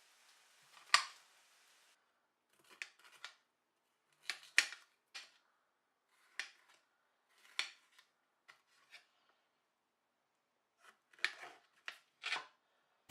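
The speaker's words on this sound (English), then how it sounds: "cut up the peppers into thin strips and then just cut the baby corn in half" Knife slicing peppers into thin strips on a board, heard as a series of short, crisp cuts in irregular bursts separated by quiet gaps, close and fairly soft.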